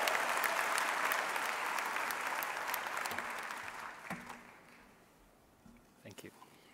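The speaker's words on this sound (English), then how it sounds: "Give him a big round of applause." Graduates and guests at a university autumn graduation ceremony applaud an award recipient, a full wash of clapping that gradually fades away, followed by a few quiet sounds and a brief voice.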